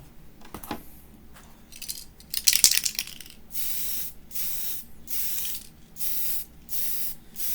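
A Lexan RC car body gets a light coat of spray paint: a few scattered clicks and handling noises, then a string of evenly spaced, fairly loud hissing bursts from the spray can, each lasting under a second.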